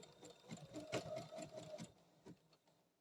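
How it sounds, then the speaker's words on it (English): A sewing machine back-stitches across a raw-edge appliqué Easter table runner, giving quiet, close, rapid needle chatter in short runs that slows and stops near the end. "when you get to the end of where you're stitching, you're going to back stitch again"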